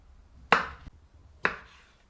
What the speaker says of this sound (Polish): zaczynamy od pokrojenia pomidorków na pół